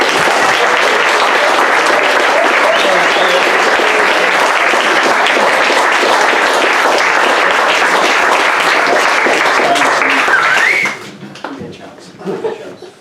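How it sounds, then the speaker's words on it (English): Sustained applause at an awards evening for an athletics club, loud and continuous for about eleven seconds with some laughter mixed in, then dropping away to quiet murmurs. "A round of applause, please, Mr. Maurice Endacott."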